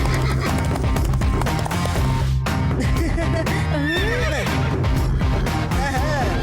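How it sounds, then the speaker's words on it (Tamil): Horses whinny loudly in a Tamil TV show scene, with rising and falling neighs over a steady clip-clop of galloping hooves and loud background music throughout. "ஏய் சிவா, நாங்க குதிரை மேல வரோம்."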